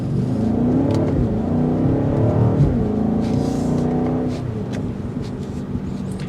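A 2024 BMW X7 M60i SAV with rear-axle steering and 22-inch wheels is driven hard through curves. Its engine roars loud and close the whole time, revving and pulling steadily, and eases slightly near the end.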